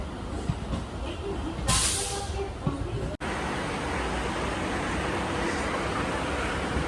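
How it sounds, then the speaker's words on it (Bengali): A passenger train rolls into Sealdah station with a broad, rushing hiss of wheels and carriage noise, a brief brighter burst and a sharp cut midway, then a steady roar continuing to the end. "এখন আমাদের ট্রেনটা ঢুকছে শিয়ালদা স্টেশন।"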